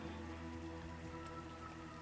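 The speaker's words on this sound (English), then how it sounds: "Looks like rain." Rain falls in Diablo II: Resurrected, a steady soft hiss of drops with no break, faint and even throughout.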